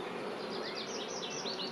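Honeybees buzz steadily inside a hive where new frames are being waxed, a dense close hum with no talk.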